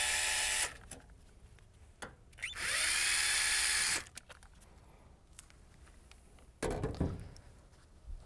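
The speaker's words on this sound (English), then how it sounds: "I'll remove those screws." Cordless power drill driving out the blower housing screws on a Heil 80 gas furnace, with short whirring bursts, one longer steady run in the middle and a final brief spin, close and fairly loud.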